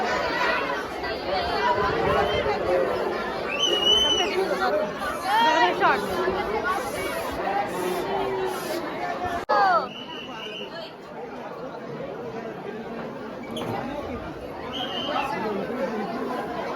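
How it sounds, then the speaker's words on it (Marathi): A large crowd of devotees chatters continuously at Ekvira temple during Navratri, a dense, steady babble of many voices close around, with occasional higher calls rising above the hubbub. "पब्लिक आलेली आहे भरपूर गर्दी आहे"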